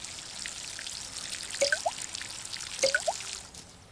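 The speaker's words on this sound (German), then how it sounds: "Schön, dass das Wasser da rein rausläuft, aber nicht in die Pflanze da rein." Water from a watering can splashes and trickles in the Garten Simulator game, two brief bursts of dripping and bubbly plinks over a faint steady background, no speech.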